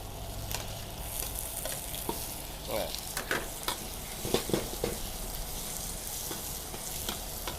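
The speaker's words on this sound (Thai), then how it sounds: "พอผัดพริกกับกระเทียมเนี่ยมันหอมแล้ว ทีนี้ ผมจะใส่เนื้อเข้าไปเลย" Beef stir-fried in a pan with chili and garlic for a basil stir-fry, a soft continuous sizzle under repeated clattering scrapes and knocks of the spatula, fairly quiet overall.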